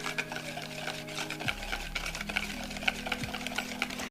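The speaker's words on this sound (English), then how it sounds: "I will whisk it a lot more, I guess" A whisk beats lumpy crepe batter in a bowl, a rapid, continuous rhythmic clatter close by, with a low hum and a faint tonal drone in the background and no talking.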